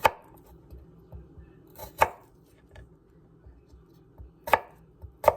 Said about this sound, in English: And now we're gonna chop and slice this again.